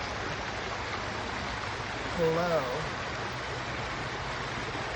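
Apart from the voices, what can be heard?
stream water flowing over rocks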